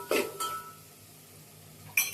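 A spoon stirring poha in a pan, heard as a few close metallic clinks and scrapes against the pan, with a quiet stretch between the first strokes and a final clatter.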